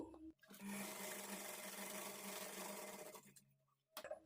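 A sewing machine runs in one continuous stitching burst of a few seconds, a steady whirring hum with a sharp start and stop, close by, followed by a brief clack at the end.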